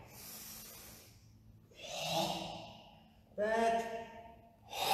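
Forceful exhalations during a karate kata exercise in an online class, two or three loud breathy hissing pushes of air a second or so long, close up, separated by quieter pauses.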